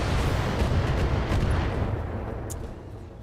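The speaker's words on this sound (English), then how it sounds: "Let's go ahead and fire that LRM-20" An LRM-20 missile salvo launches in the Battletech video game, a dense, continuous roar of rockets firing close and loud, fading slightly toward the end.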